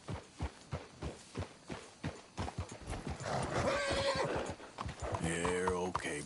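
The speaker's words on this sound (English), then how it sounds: "Let's hitch the horses up ahead" Horses in a video game trot with brisk, evenly spaced clip-clop hoofbeats, close and clear, then a horse neighs while characters speak over the hooves.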